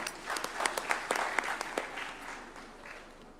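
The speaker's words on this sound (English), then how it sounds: "A warm clap for him." Clapping for a judge at a swearing-in ceremony at State House, Nairobi, starting with distinct sharp claps from a modest audience, then thinning and fading toward the end.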